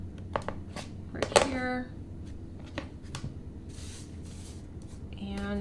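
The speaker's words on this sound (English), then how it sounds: "I'm just gonna cut this little bit" Scissors snip through small scraps of quilting fabric while piecing scrappy blocks, a few short crisp cuts and rustles close by, with someone speaking briefly over them.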